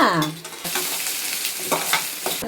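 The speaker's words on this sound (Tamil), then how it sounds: "இப்போ வதக்குனா பாரு" Spinach greens sautéing and being stirred in a hot pan, with steady sizzling and scraping stir strokes close by, a few sharper clatters breaking through the frying hiss.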